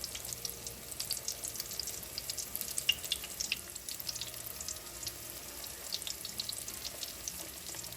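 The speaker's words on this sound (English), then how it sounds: "Now when they're frying like that" Apple fritters fry in oil that sizzles and crackles steadily, a continuous close-up bubbling with small pops scattered throughout, no voices.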